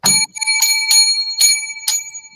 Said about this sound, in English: 7 lucky bells.